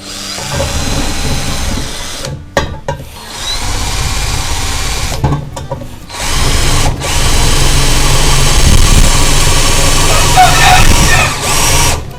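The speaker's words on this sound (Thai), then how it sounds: "ชักรูนะครับ" A power drill fitted with a multipurpose bit bores a hole through old cement and ceramic tile, loud and steady, with the whine cut off by a few brief pauses and a voice speaking over it.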